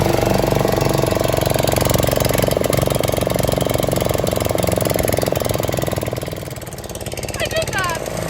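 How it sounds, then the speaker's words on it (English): The small gasoline motor on a wheel line mover runs loud and close in a steady, throbbing drone that dips briefly toward the end before it picks back up. "These motors are mental, and I don't know why they're starting so easy tonight."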